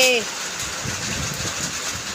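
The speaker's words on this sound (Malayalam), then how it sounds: "ഭയങ്കര കാറ്റും മഴയാണ് കൂട്ടുകാരെ" Steady rain and gusting wind hiss broadly, with a brief voice at the very start before the downpour continues alone.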